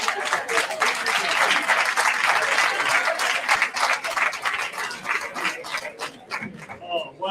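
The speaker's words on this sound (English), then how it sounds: "Give yourselves a round of applause." Sustained applause from a forum audience, dense clapping throughout that tapers slightly near the end, with some voices mixed in.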